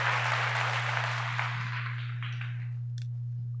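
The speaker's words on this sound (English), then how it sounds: "Round of applause." An audience applauds in a burst of dense clapping that fades away over a few seconds, with a steady electrical hum underneath.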